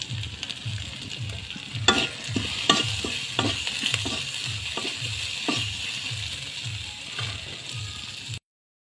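Spices, including whole cumin and bay leaves, sizzle and crackle in hot oil while a utensil scrapes the pan in a steady repeating rhythm, close up, with no talking.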